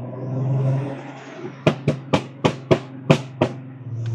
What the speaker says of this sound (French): Les gars, vous entendez le retour du turbo ?